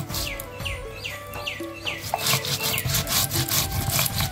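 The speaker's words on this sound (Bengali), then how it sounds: "জিরাটা বাটা হয়ে গেছে" Cumin seeds are ground by hand on a grinding stone, a steady back-and-forth rubbing scrape repeating in an even rhythm, close and continuous, with a hen clucking faintly nearby.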